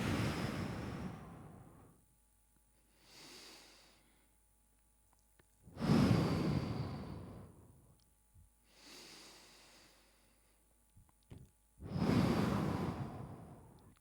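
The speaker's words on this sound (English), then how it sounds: "Big inhale. Slow exhale." Deep breathing during a hip mobility workout: three loud, long inhales alternate with softer, slow exhales in a steady rhythm, close up with no talking.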